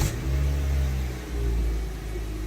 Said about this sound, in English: We'll just start the engine up.